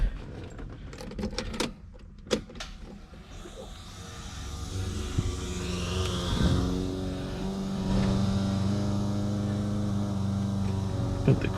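A Toyota Supra MKIV with a freshly swapped T56 transmission cranks and fires up, settling into a steady idle after some clunks and rustling nearby.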